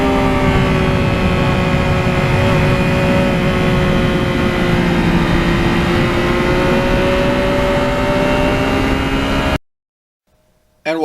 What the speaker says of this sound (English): what really is good about this exhaust system, it's got a beautiful sound when you're riding the bike